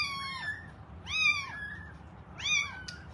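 A foster kitten meows three times, high, clear and fairly close, with pauses between the cries over a faint background.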